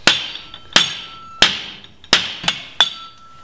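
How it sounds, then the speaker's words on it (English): Hammer blows pound a metal clip over into line with a hole while building a pack for a Jeep Cherokee; six sharp, ringing metallic strikes land at uneven intervals, close and loud with no talk. "Now I just pound it over until it's lined up with the hole."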